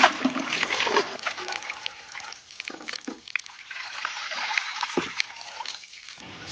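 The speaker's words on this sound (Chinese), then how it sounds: "随便洗两遍就拿去焯水。" Fresh vegetable shoots being washed by hand in a basin of water: continuous splashing and sloshing with irregular swishes and dips, close and fairly loud, no speech.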